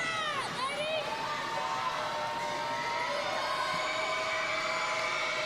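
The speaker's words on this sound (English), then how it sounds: "North Marion fans cheering, trying to make him miss." Crowd of North Marion basketball fans cheering and shouting loudly in a high school gym during a tied game's free throw, a sustained dense roar with whoops and high-pitched yells.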